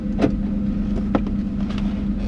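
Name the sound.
Ford Mustang Bullitt GT exhaust with e-cutouts closed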